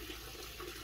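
Water splashing and running steadily during hand-washing and scrubbing of clothes, a continuous close wash-basin sound with no talk.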